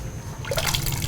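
A coconut milk mixture for mathanga pradhaman is poured into a pot, giving a short liquid splash and gurgle that starts partway through and swells after a quiet start.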